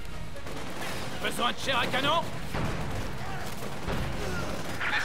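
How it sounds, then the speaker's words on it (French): Small arms gunfire crackles in the World War II strategy game Company of Heroes 2 during a battle at the Reichstag, with bursts of rifle and machine-gun shots beneath a soldier's voice speaking in French. "On essuie des tirs d'armes légères."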